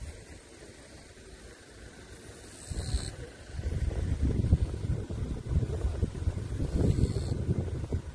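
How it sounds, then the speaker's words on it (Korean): Wind blows on a hilltop wind farm at Tohamsan in Gyeongju, a low rushing roar that builds from faint to loud gusts buffeting the microphone, with no talk. "바람이 시원하게 불고 있습니다"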